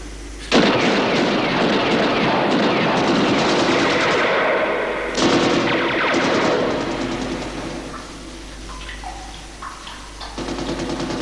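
Gunfire rings out from someone shooting, with loud, booming bursts and rumbling reports that carry over a continuous wash of noise.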